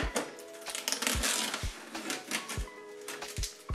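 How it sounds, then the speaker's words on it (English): A new Canon PIXMA G-series ink tank printer powering up for the first time gives off a busy mechanical run of clicks, whirring and rhythmic thumps as its carriage and rollers move, close and fairly steady over nearly four seconds. "The printer makes some noise"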